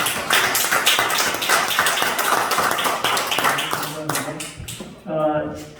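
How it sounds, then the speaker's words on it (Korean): A church congregation claps to welcome a newcomer who stands up during a Sunday service, a dense wash of hand claps running steadily and fading near the end, with a voice rising briefly at the close. "박수로 환영하시고"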